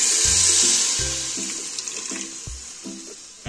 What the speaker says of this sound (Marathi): याच्यामध्ये थोडंसं पाणी टाकू